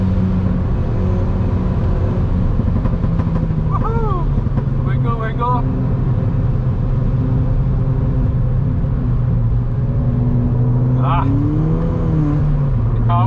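A Ford Fiesta ST drifts on a slippery track at Donington Park, its engine droning steadily up close while tyres give short squeals a few times across the run.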